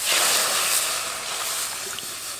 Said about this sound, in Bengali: কড়াইতে দিয়ে দেবো জল।